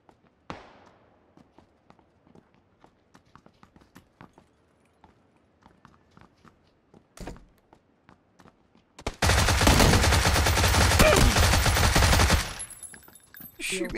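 Gunfire in the video game PUBG: scattered single shots and footstep-like taps give way to a loud, dense burst of automatic fire lasting about three seconds, then a few more shots follow.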